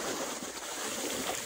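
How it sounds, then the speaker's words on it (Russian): Ocean waves wash onto a beach in the Dominican Republic, a steady broadband rush of surf mixed with wind buffeting the microphone, continuous and fairly close throughout. "Волны сразу забирают."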